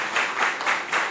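Audience clapping for a junior high school quiz team after the members are introduced, a brief burst of applause rising and falling in quick pulses, no voices over it.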